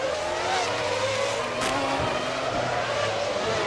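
Formula One cars race through the streets at the 2000 Monaco Grand Prix, with a McLaren chasing a Jordan. A high, whining engine scream holds steady with shifting pitch and a brief sharp burst partway through.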